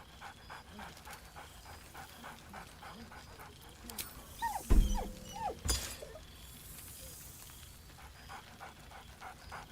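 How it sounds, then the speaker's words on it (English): A dog's excited bark and panting from the video game Baldur's Gate 3, heard as a brief close burst of barks and huffs in the middle of a quiet ambient game background, with speech nearby. "Scratch barks merrily in something like agreement."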